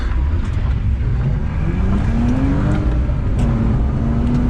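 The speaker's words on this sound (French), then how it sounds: "On va rouler en BM" BMW car on the road, a loud steady engine drone and road rumble heard from inside, with a low engine note rising and falling as it accelerates, continuous throughout with no talking.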